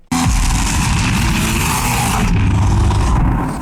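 A massive rock dragon in Monster Hunter Wilds roars loudly and continuously for over three seconds, a dense, heavily bass-boosted rumble with a harsh, engine-like growl.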